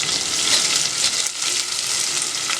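Onions fry in a hot pan for tomato rice, giving a steady, close, bright sizzle that holds at an even level without talking.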